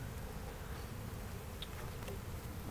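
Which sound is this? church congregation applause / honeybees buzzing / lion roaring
honeybees buzzing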